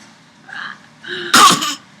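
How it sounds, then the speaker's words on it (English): A child coughs and clears the throat a few times in quick succession, close and fairly loud, with the final bursts the sharpest. "Are you coughing?"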